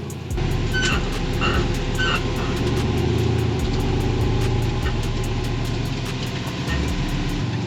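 A rock crawling buggy engine held at light throttle on a rocky Arizona pine forest trail: a steady, close, rough mechanical drone with a rhythmic ticking pulse throughout, and no voices.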